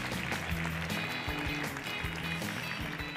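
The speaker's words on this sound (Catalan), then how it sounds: "jo demano un fort aplaudiment per als guanyadors d'avui i per als subcampions d'avui" An audience applauds the day's winners and runners-up at a school quiz competition, a loud, dense clapping that runs the whole length while music or voices sit underneath.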